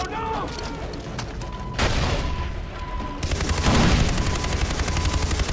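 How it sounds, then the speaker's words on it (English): A grenade blast and gunfire in the shooter game Far Cry 3: a sudden loud burst, then sustained rapid crackling shots and booms that swell and stay dense to the end. "Grenade, eat it."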